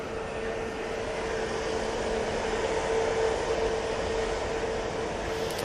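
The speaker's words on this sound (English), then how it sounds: "There goes that EasyJet" EasyJet airliner at Manchester Airport, a continuous rumbling engine roar with a faint steady tone, holding level and fairly loud throughout, with no speech.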